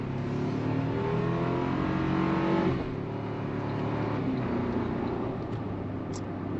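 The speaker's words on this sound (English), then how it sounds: "Let's go on throttle." A Toyota 4Runner with a 2.4 liter turbo engine and 8-speed automatic pulls under throttle from inside the cabin, a steady engine drone with road noise that eases slightly partway through.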